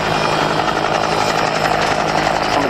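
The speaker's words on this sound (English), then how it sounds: "Search and rescue using helicopters." A search-and-rescue helicopter flies at the RAF Cosford air show in 2018, its rotor and engine producing a loud, steady, close thrumming roar that holds for the whole stretch.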